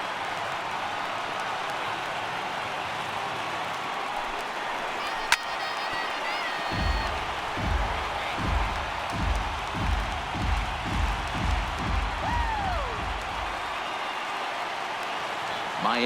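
A crowd of about 34,000 baseball fans roars in the video game MLB The Show 18, a continuous wash of cheering joined midway by rhythmic clapping and stomping, heard beneath commentary.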